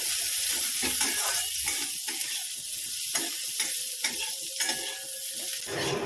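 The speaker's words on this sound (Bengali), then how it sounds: "এখন পেঁয়াজ ভাজা হচ্ছে সবজির সঙ্গে" Onions frying with vegetables in a pan for chow mein give a steady, close sizzle throughout, broken by scraping stirs and a few light clicks of a utensil against the pan.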